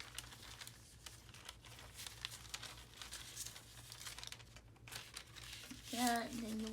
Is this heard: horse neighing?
no